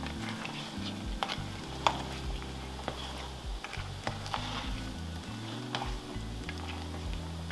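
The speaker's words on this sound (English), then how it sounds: "Please make sure to stir the mix gently into the pot." A spoon stirs sinigang tamarind soup mix in a pot of seafood broth with pampano and shrimp, giving soft repeated scrapes and clinks over a low bubbling simmer, fairly quiet and without voices.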